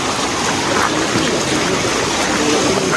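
Strong river current rushing steadily and loudly, a broadband wash of flowing water that stays constant throughout with no voices.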